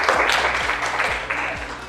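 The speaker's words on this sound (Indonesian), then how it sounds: "Oke, beri tepuk tangan." A classroom group of students gives a short round of applause, with quick close clapping that begins strongly and tapers off over a couple of seconds.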